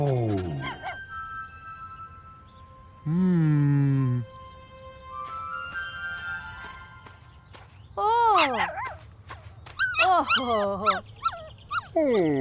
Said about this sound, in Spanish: Perro, dog.